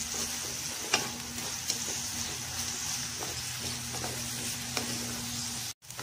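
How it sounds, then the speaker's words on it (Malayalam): Onion being sautéed with salt in a pan makes a steady close-up sizzle with a few light stirring taps; the sound cuts out abruptly for a moment near the end before resuming. "അപ്പൊ സവാള വഴറ്റിയെടുത്തിട്ടുണ്ട്"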